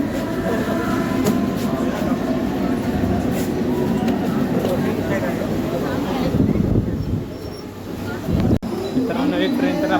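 A crowded train runs loudly at close range, its steady rumble carrying faint clickety-clack. Passengers talk over it throughout.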